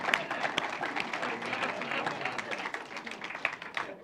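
Audience applause at a talk on global energy perspectives, moderately loud and continuous, with a few sharper individual claps standing out and a slight swell toward the end.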